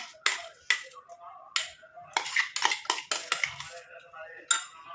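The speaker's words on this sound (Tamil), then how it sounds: "இப்போ இந்த இரும்பு கடாயில் தான் நம்ம இந்த மருதாணி பேஸ்ட்டை வந்து போட போகிறோம்" Henna paste is dropped and spread in an iron kadai, producing a string of close, sharp metallic clinks and scrapes, irregular and quick, with quiet gaps between.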